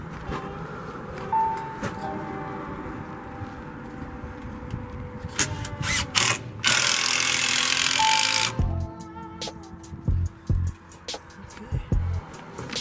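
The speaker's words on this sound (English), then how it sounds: "I'm going to go ahead and start drilling some of these logs in." A power drill drives screws into the roof logs of a cabin under construction, giving intermittent loud whirring and grinding bursts against a low background hum.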